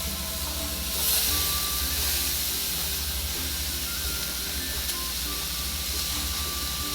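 Onions roasting in a dry skillet, a steady close hiss and crackle that carries on evenly throughout with no talking.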